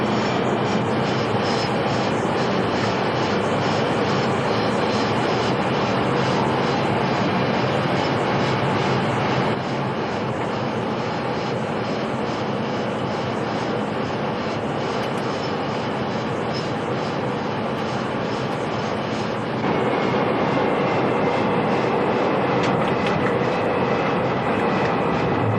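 Bomber aircraft engines run in a steady, dense droning roar from the cockpit during an air-to-air refueling mission, a continuous loud hum that shifts tone slightly partway through, with no pauses.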